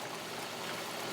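Water rushes past a badly worn slice valve on a spa pump, a dense, steady hiss of flowing water heard close up and without a break.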